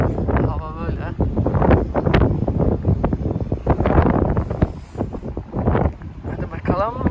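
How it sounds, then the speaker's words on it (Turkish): Strong gusting wind at Hoover Dam above the Colorado River batters the microphone with loud, buffeting rumbles while someone talks over it. "Çok rüzgarlı bugün."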